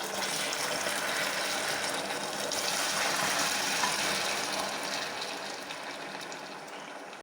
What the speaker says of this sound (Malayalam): പഞ്ചസാര ഇവിടെ മെൽറ്റായി ബ്രൗൺ നിറമായി. ഇതിലേക്ക് 1 ഗ്ലാസ് വെള്ളം ഒഴിക്കാം.